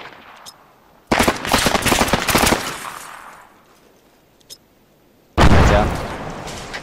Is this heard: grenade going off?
yes